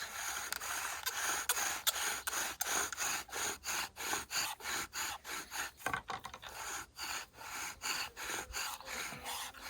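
A bow drill spindle is worked against a wooden fireboard outdoors, making rhythmic rasping strokes about twice a second, each scrape rising and falling, close and steady throughout.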